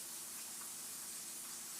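Shrimp deep-fry in hot oil for a po' boy, a faint, even hiss of bubbling oil with no other sounds.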